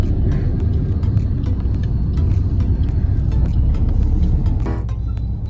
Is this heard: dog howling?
no